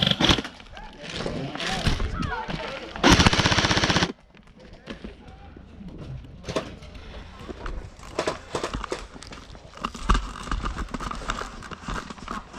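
An airsoft gun firing full auto from a large 900-round magazine in an outdoor skirmish, rapid rattling bursts up close, with footsteps and players talking in between.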